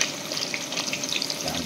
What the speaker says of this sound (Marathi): मस्त कांदा परतून घ्यायचा आहे